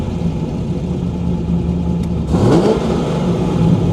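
A 1959 Rambler engine idles with a low rumble, then the revs rise sharply after a delay as the throttle opens, climbing and holding at a louder, higher pitch.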